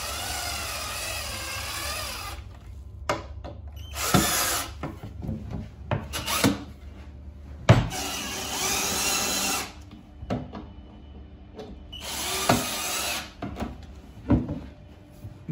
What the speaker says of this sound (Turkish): Kapak kulplarını takıyoruz.